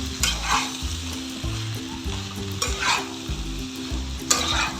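Pumpkin chhokka stirred and frying in a pan, a steady sizzle under scraping spoon strokes that come in irregular bursts, close and fairly loud, with no voices.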